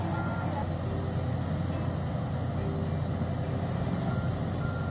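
At a mine, CAT 777 dump trucks and excavators run with a steady, continuous engine drone, and a vehicle reversing alarm beeps through it, with no one speaking.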